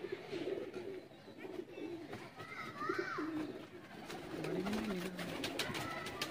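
Tiger Lakha pigeons coo softly in repeated low throaty phrases, close by, with people talking over and around them.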